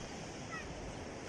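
Waves wash steadily onto the sandy beach at Tanjung Leman, Johor, with a continuous broadband surf roar and some wind noise on the microphone, moderately loud and unbroken throughout, with no talk.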